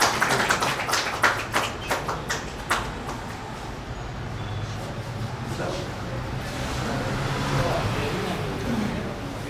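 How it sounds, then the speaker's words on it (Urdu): Audience applause at a literary gathering at City Senior College, a burst of clapping that sounds at first, then thins into a steady, diffuse crowd patter that carries on to the end. "تالیوں کی گونج میں۔"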